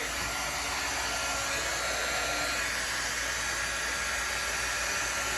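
An embossing heat gun blows hot air over poured acrylic paint on a Christmas card, giving a steady, loud, broadband whoosh that holds evenly for the whole stretch with no talking.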